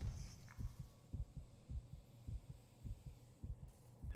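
Isaac's heartbeat in the Dead Space remake thumps low and steady, a regular pulse of soft double beats repeating throughout under a faint ambient hum, with no voices.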